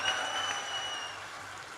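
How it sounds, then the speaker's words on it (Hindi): Brief, fairly faint audience clapping at a Hindi comedy poetry gathering, a short burst of applause from the crowd lasting under two seconds. "ताली बजाओ, सांस लेना है।"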